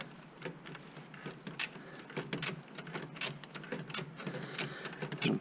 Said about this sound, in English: I'm going to crank it down with the rest of the wrench, socket wrench.